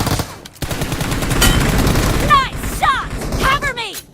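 Gunfire in a mobile shooter video game, loud continuous bursts of rapid shots with short whistling, chirping game effects near the end, close and dominant.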